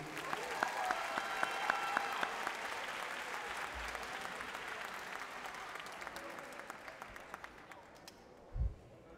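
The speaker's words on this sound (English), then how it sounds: "How about one more round of applause for Tiara and Nadeja?" An audience at a high school graduation ceremony applauds for two performers, a broad, sustained wash of clapping that slowly thins toward the end, with one louder thump near the close.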